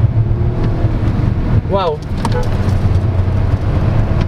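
A 2024 Lynk & Co 01 plug-in hybrid SUV accelerates in power mode, a steady low cabin drone of engine and road noise running throughout, with a man's brief exclamation partway through.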